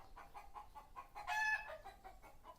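Rapid, agitated clucking from a startled native-breed hen, rising into a louder squawking burst midway before settling back into quick clucks; fairly faint and close.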